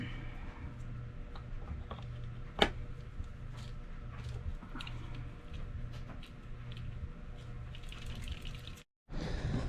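Water runs steadily from a tap while a jar is filled for a home soil test, a faint continuous splashing hiss with a sharp clink near the start, cutting off briefly at the end.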